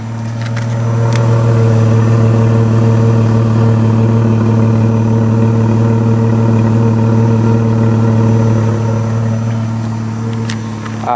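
The engine of a 2004 Jeep Liberty idles steadily through its cat-back exhaust, giving a constant low droning hum with harmonic tones that holds evenly, close up and with no speech.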